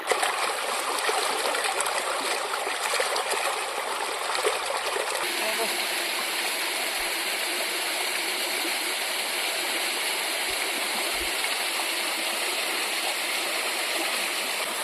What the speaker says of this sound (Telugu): మినీ వాటర్ ఫాల్ ఇది మా మినీ వాటర్ ఫాల్ ఎలాగుంది